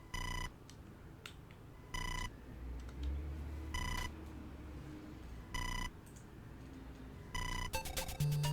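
Telephone ringing in the retro RPG EarthBound Beginnings: five evenly spaced electronic ring bursts, each about half a second, over a low game backdrop, ending in a quick flurry of chiptune beeps.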